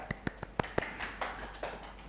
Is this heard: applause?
yes